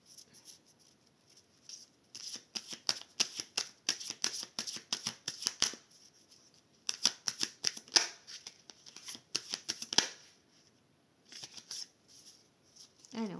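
A deck of oracle cards shuffled by hand in repeated bursts of crisp riffling and flicking, with short pauses between runs, close and moderately loud.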